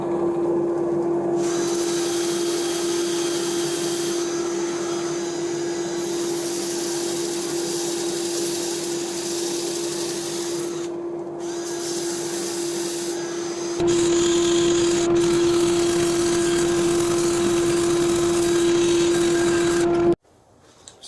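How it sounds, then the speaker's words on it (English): Sanding a construction pine bowl with merbau inlay, a loud steady whine of a spinning sander running continuously with a steady tone, shifting in pitch and load partway through before cutting off at the end. "So I'll start sanding and show you a little bit"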